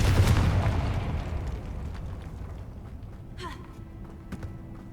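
A Confringo spell explodes in Hogwarts Legacy in a cave setting. It is a loud, booming blast right at the start, and its rumble slowly fades away, followed by a few faint magical whooshes and clicks.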